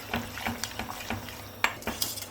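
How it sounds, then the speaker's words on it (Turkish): Soup with added milk stirred fast in a pot, a quick run of soft spoon scrapes and clinks against the metal, close and faint with no talk. "Hızlı hızlı karıştıracağım. Şimdi kaynayana kadar karıştırmayı bırakmayın."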